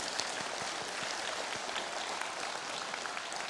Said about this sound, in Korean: 큰 박수로 사랑을 보내주시면 좋겠습니다